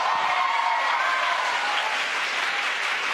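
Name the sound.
employees cheering at SpaceX headquarters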